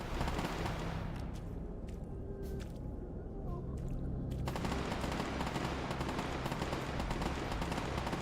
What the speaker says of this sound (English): this is who's been lighting up the valley with gunshots.